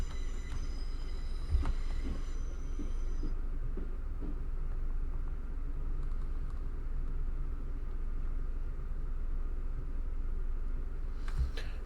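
A Class 455 electric train in the Train Sim 2022 game pulling into West Croydon, a loud steady low rumble and hum running throughout, with faint high whines at the start and a couple of brief knocks.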